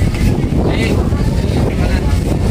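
Heavy coastal wind at Matnog port buffets the microphone throughout, a constant low roaring rumble with gusty fluctuations.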